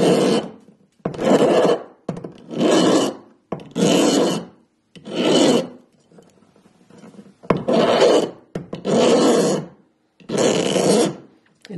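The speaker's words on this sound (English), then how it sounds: "And I am using quite a coarse file, as you can hear, just to speed up the process a bit." Coarse file rasping against a small miniature lighthouse piece, close and loud, in a steady run of long strokes with short pauses between them and no talking.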